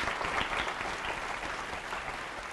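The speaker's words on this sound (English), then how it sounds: "Let's give them a round of applause anyway." Studio audience applauding contestants on a zero-themed quiz show after the judges' scores are read, a dense, steady wash of many hands clapping at moderate distance throughout, with no talk over it.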